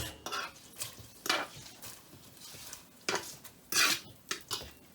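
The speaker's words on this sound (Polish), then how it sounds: "Teraz już do tej zupy wrzucam szczaw." Sorrel going into a pot of Polish sorrel soup with egg, cream and potatoes, heard as several close clinks and scrapes of a utensil against the pot with soft sloshing stirs, in uneven bursts and without talk.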